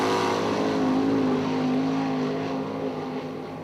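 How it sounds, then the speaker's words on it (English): A sprint car runs laps at Eldora Speedway, a dirt oval in Rossburg, Ohio, its loud, steady engine drone holding a fairly constant pitch with a slight rise and fall throughout, no voices over it. "Next car on the speedway."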